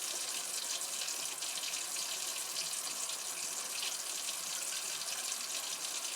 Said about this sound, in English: open the hot water heater valve, and run it till you get all the air out.